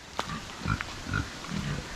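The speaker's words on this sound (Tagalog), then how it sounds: "Yan may mga baboy pa dito." Pigs grunt in short low bursts on a rural farm, a few scattered snorts spread across the moment, moderately near and fairly soft, with no talk.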